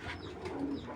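Racing pigeons coo in a low, soft murmur: one brief, close rolling call with no voices over it.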